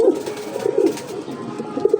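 Red Cigar fancy pigeons coo in a series of low, soft throaty bursts, close by and repeating unevenly over a faint background.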